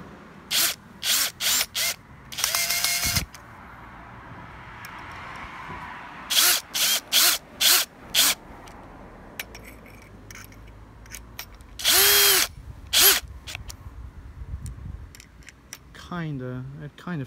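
A power drill drives screws to mount a small bracket for a Ring Spotlight Cam, with repeated short bursts of whirring and longer runs, close and loud, separated by quiet handling noises.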